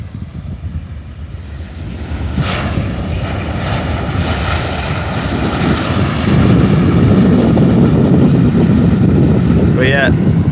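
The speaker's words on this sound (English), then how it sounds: "this is the Ryanair from Dublin, I believe, that went around before" A Ryanair airliner from Dublin at Faro Airport gives off a loud, steady jet engine roar that builds and stays strong, with wind buffeting the microphone.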